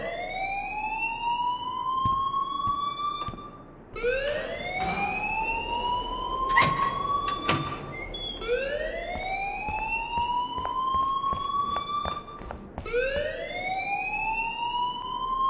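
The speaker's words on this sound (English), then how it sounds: "please turn off that alarm since that's your job" A fire alarm in the Life Is Strange video game wails in a steady repeating rising sweep, loud and continuous, each cycle climbing in pitch before restarting, with no voices over it.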